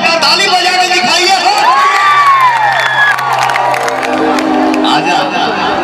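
A crowd at a Bhojpuri stage show claps and cheers, a loud continuous wash of applause and shouting with whoops and a sliding tone rising over the din.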